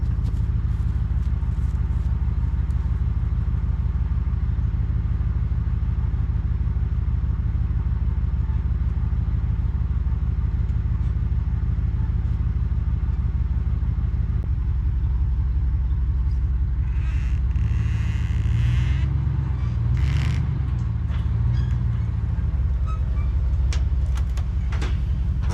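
Truck towing a long-parked Nissan 300ZX loose from where it sat, a steady close engine rumble throughout, rising briefly to a heavier strain and scraping surge partway through before settling back.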